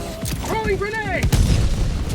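Grenade blast in Helldivers 2 during a fight against bugs in a mega city under acid rain, a deep rumbling boom with rattling debris and game voice chatter around it.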